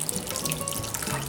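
Liquid runs and trickles out as grated vegetables are squeezed by hand for fermentation, a close, steady wet dribbling and splashing with small drips, no voices.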